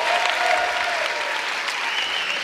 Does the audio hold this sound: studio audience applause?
yes